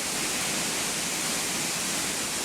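Waterfall by a big dividing stone, a steady broadband rush of falling water, constant and fairly loud with no variation or voices.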